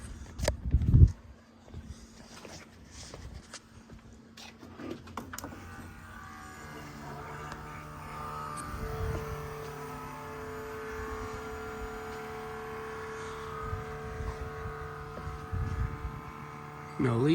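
A 351 Windsor V8 idles steadily with its throttle linkage unhooked after a valve spring and Polylocks job, a continuous low engine hum running throughout with clatter at the start and people talking over it.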